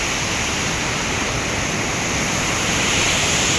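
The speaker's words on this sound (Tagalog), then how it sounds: "Grabe yung agos." Strong rushing water current at Sulfur Mountain in Valencia, Negros Oriental, a steady loud broadband roar like a waterfall or fast stream, continuous and close for the whole stretch with no voices.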